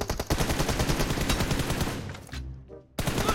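Rapid bursts of automatic gunfire in PUBG Mobile during a 1v1 team deathmatch, loud and close, a dense run of shots that briefly cuts out before resuming.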